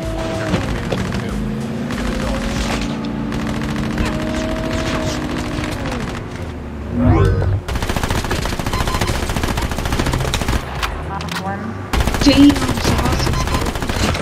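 Rapid automatic gunfire from the mobile shooter Call of Duty Mobile rattles in sustained loud bursts, with a brief gap and whooshing effects midway before the firing resumes and continues close up.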